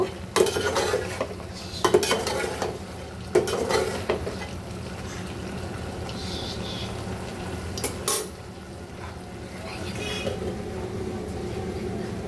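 Shrimp and ash gourd being stirred in a cooking pot, with a utensil scraping and clinking against the metal in bursts over a low simmering hiss, a few sharp knocks standing out.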